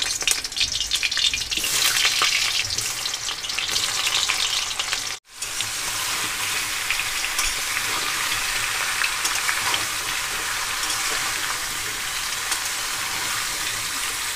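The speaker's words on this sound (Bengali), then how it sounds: "এবার আমি সেদ্ধ করে রাখা এঁচড়গুলো ভেজে নেব।" Boiled jackfruit pieces fry in hot white oil in a wok, giving a loud, steady, continuous sizzle with a brief break midway before the frying hiss resumes.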